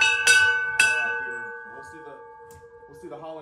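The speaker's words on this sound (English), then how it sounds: "I'll be ringing the ringdinger bell on the way out" A hand bell rings at a chiropractic clinic, two bright clangs close together that ring out and slowly fade, followed by brief talk.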